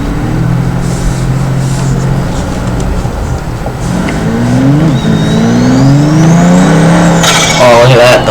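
A turbocharged supercar engine revs in BeamNG.drive, rising and falling in pitch with a steady mechanical drone and whine, loud and continuous, while someone talks over it.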